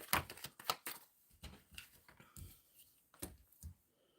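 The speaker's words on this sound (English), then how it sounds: "Shuffling for Simran regarding career." Tarot cards being shuffled, a quiet series of crisp riffles and flicks in uneven bursts, close and soft with no talking.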